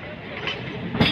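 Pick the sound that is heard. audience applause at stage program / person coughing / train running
train running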